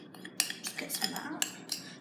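A utensil scrapes and taps against a bowl while flour is folded into Easter cake batter, a few quick close strokes with small clinks, quiet and alone.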